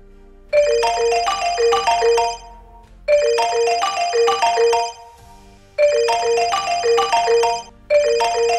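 A mobile phone ringtone plays a repeating melodic chime pattern, four bursts of about two seconds each separated by short pauses, clear and close in a quiet room.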